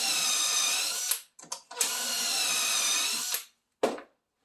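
A power drill whirs loudly in two long bursts while drilling holes for cabinet rollouts, with brief stops and restarts in between, then a short final burst before silence.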